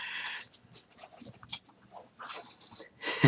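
A dog whimpering and wheezing close by, a series of short breathy whines and snuffles in irregular bursts with brief quiet gaps between them.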